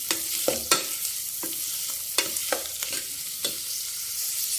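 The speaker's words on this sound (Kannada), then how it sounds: "ನೀಟಾಗಿ ಮಿಕ್ಸ್ ಮಾಡ್ತ ನಾನು" Vegetables being mixed with oil, onion and garlic in a pan, sharp spatula scrapes and taps repeating irregularly over a quiet sizzle, close up and without speech.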